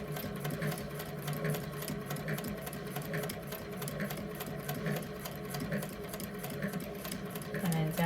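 A vintage sewing machine stitching fabric for a machine cover, with a steady rapid mechanical ticking and a low motor hum running throughout, close and moderately quiet, with no talking.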